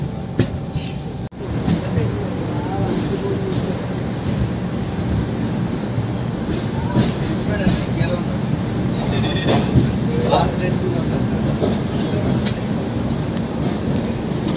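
The Venkatadri Express pulls into Renigunta station, a steady rumble of rolling coaches and rail noise heard close from on board, with scattered voices on the platform.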